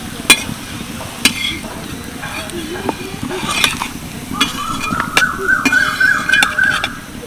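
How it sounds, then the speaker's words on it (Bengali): Batter fritters made with drumstick and pennywort leaves sizzle steadily in a frying pan, a close, continuous crackle with occasional spoon clinks and scrapes. Later, a faint whistling tone rises in the background, and nobody speaks. "চলো বাকি ব্যাটারটাও আমি একইভাবে ভেজে নিই"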